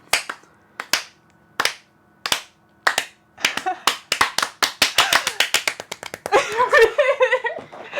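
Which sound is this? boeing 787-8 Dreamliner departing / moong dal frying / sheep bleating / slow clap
slow clap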